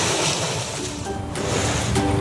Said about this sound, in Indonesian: itu adalah suara ombak.